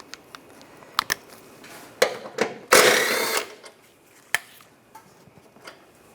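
A 10mm socket wrench works loose the brake hose bracket bolt on a 2010-2016 Cadillac SRX during a front CV axle job, giving scattered sharp ratchet clicks and a short grinding burst, close and otherwise quiet.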